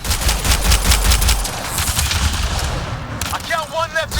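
Rapid bursts of gunfire in the sci-fi video game Mass Effect Andromeda crackle loud and close in quick repeated volleys, with game voices shouting over the shooting.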